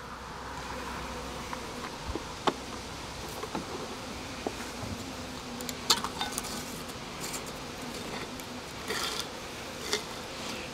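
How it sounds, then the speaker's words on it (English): Steady low buzzing of bees gathered at a feeding jar fills the background, with occasional brief clinks and ticks rising above the hum. "Pretty much all those bees went over to that jar now that it's there."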